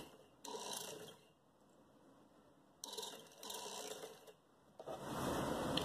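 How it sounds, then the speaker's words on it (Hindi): A sewing machine stitching a gharara trouser seam, in three mechanical whirring bursts separated by short pauses, close and fairly loud, with the last run building steadily. "आधा इंच की हिसाब से मैं रख रही हूँ, सिलाई कर रही हूँ।"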